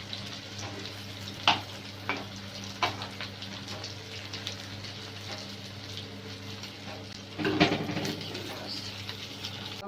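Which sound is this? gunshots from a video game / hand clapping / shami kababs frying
shami kababs frying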